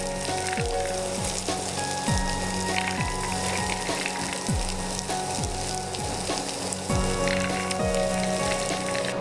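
Potatoes roast in a pan for a falahari aloo vrat dish, giving a continuous, even sizzle and crackle that holds steady throughout. No one speaks.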